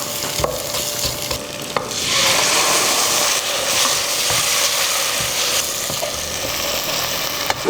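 Ground spice paste fries in a pan for ayam ungkep goreng lengkuas, with a continuous close sizzle that swells louder partway through, plus scattered stirring scrapes and a faint steady tone.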